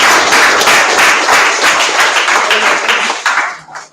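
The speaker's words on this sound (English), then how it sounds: "Come on, claps to him." An audience of students applauds during a presentation grading session, dense steady clapping that holds for about three seconds before thinning out and fading near the end.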